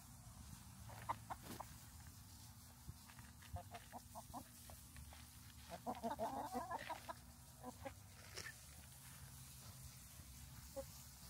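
Hens cluck in a short, uneven series with a busier flurry partway through, over a steady low background hum; no one speaks.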